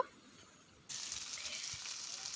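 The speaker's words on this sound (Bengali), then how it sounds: "এবার ফোড়নটাকে আমি একটু ভেজে নিব" A whole bay leaf, cardamom pods and cinnamon pieces hit hot oil for an egg curry, a soft hiss that swells into a steady, faint sizzle after a quiet moment.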